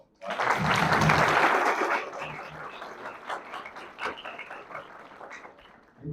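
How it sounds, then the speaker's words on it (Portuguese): Audience applause at a talk or stage event as a guest is called up, a dense burst of clapping for about two seconds that fades into scattered claps and crowd noise, with some dog-like yelps mixed in. "Aplausos, pessoal."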